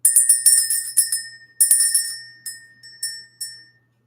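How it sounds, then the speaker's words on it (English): A small bell rings in quick repeated strikes, bright and close, in several bursts that fade to a last lone ding, with no talk. "Let's just ring the bell, see what the message is"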